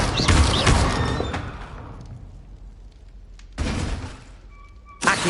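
A burst of Incendio fire-spell casting in Hogwarts Legacy: a loud whooshing blast up front fading into crackle, followed by two more sharp, broadband bursts later, with no talking.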